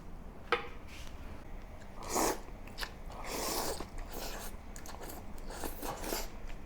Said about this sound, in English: You might have heard the slurping sound of the noodles.